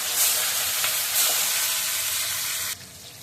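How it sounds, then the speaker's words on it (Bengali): Fish frying in hot oil in a wok makes a bright, steady crackling sizzle, loud and close, that drops to a softer hiss near the end, with no voices. "কড়াইতে তেলটা দিয়ে দিলাম, তেলটা গরম হয়ে গেল, এবার মাছগুলো ভেজে উঠিয়ে নেব"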